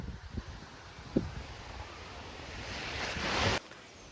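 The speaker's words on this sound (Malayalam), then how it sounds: "ഇതിൻ്റെ അപ്പുറത്താണ് നമ്മുടെ വെള്ളച്ചാട്ടം ഉള്ളത്. അതിൻ്റെ സൗണ്ട് നിങ്ങൾക്ക് കേൾക്കാൻ പറ്റുന്നുണ്ടോ?" A hidden waterfall near Payyanur in Kannur is heard as a steady broadband rush of water from some distance, mixed with wind buffeting the microphone and a few brief knocks, swelling slightly louder before cutting off.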